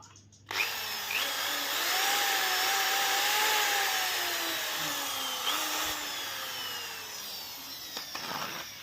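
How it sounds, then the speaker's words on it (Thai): An electric drill plugged into a homemade power strip whirs steadily for several seconds after a sharp start, its pitch sliding slightly as it runs close by without any talk. "เรามาลองกับ นี่ครับสว่านดูนะครับ ว่าเป็นยังไงบ้าง"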